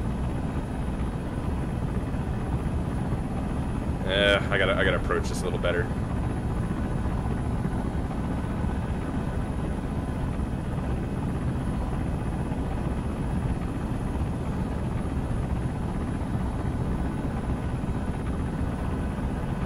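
A video game helicopter flies during a base attack, its steady loud rotor drone filling the whole stretch while someone speaks briefly over it.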